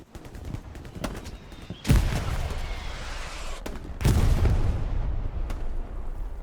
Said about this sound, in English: Artillery hounding the enemy